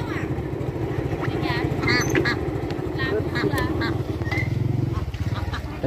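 Ducks bought for cooking quack loudly and repeatedly in rapid, overlapping bursts close by, while people talk over them throughout.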